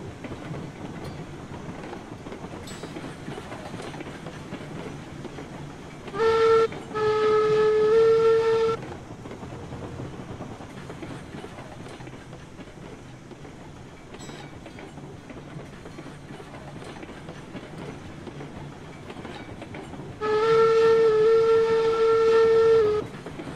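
Steam locomotive in the railroad video game Railroads Online, running with steady rumbling chuff and rail noise, broken by two loud, sustained whistle blasts, one early and one near the end.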